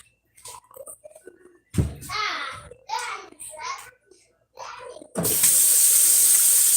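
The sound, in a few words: water running into a mug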